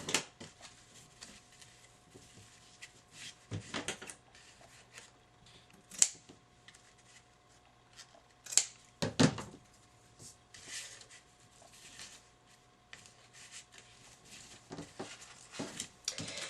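Scissors snip out a paper ladybug for handmade card making, giving a few sparse, crisp cuts spread across a quiet room tone.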